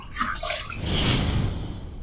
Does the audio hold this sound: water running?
yes